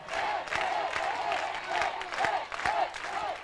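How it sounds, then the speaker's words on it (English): Liberty Center fans chanting and cheering in the stands at a high school football game against Wauseon, rhythmic crowd voices with clapping in repeated pulses, steady and somewhat distant. "Here's the Liberty cheer, hit."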